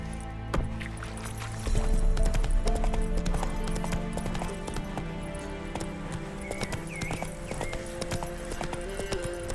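Horse hooves clip-clop steadily in The Witcher 3: Wild Hunt while a whinny and game music play over a busy, layered background.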